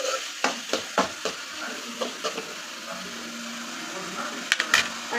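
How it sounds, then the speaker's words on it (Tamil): Onions sautéing in a pan for an egg masala, with a soft steady sizzle broken by several sharp scrapes and clinks of a spoon stirring, some faint talk in the background. "ஆனியன் நல்லாவே வதங்கணும்"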